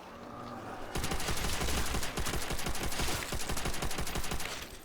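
Rapid, evenly spaced bursts of BAR rifle fire in the Call of Duty zombies map Nacht der Untoten, loud and close, starting abruptly and continuing as a steady rattle with no talk over it.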